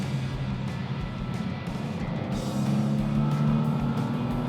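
A BMW E92 M3 cruises along an open road, its engine giving a steady, droning hum with road and wind rush that builds slightly louder toward the end, no talking.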